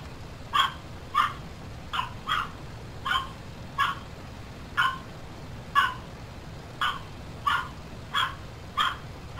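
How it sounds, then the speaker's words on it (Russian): A dog barks repeatedly at a fairly regular pace, about a dozen short sharp barks heard from a distance over a low background rumble. "Там собака лает."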